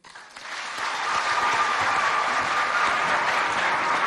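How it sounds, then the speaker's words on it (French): Applause at a school event in Moundou swells up within the first second and then holds as steady, dense clapping from a crowd, with a faint tone running through it. "S'il vous plaît, on l'applaudit bien fort."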